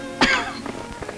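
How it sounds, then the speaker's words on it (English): A single sharp cough, close and fairly loud, followed by a couple of softer throaty catches. "And this cough."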